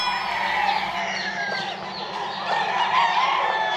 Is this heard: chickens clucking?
yes